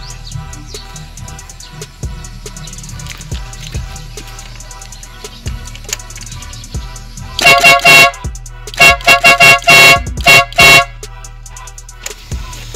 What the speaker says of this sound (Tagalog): ganyan kalakas yung ating busina para sa ating maliit na motor